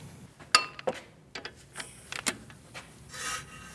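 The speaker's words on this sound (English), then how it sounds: "a 21mm socket with an extension for the strut bolts. We're going to remove those bolts." Socket wrench and extension working on the front strut bolts of a 2008-2014 Mercedes-Benz C300, heard as a few sharp metallic clicks and knocks with soft scraping and rubbing in between, close by and fairly quiet.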